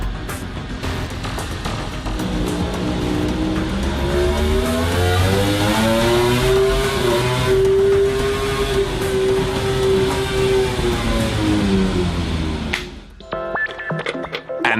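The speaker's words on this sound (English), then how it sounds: "At the laboratory, they are testing the durability of the engine." A Suzuki MotoGP prototype engine runs on a durability test rig in a laboratory, giving a loud, continuous mechanical drone that rises and falls in pitch. It cuts off abruptly near the end, leaving scattered clanks and hums.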